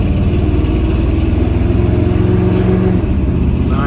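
A 1960 Chevrolet Bel Air engine hums steadily while the car drives, a loud, close, even drone with a constant low rumble and no voices over it.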